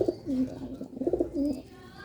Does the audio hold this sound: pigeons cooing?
yes